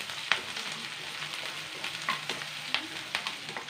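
Onions sizzle and fry steadily in a pan, a continuous crackling hiss with occasional sharper pops and stirring scrapes, close and fairly quiet, with no talking.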